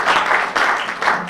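Applause from a press conference audience, a steady wash of many hands clapping that swells in short waves, moderately loud and heard alone without talk.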